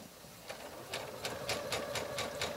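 A sewing machine stitches fabric for a sampler with a soft steady hum and rhythmic ticking pulses about every quarter second, close and moderately quiet.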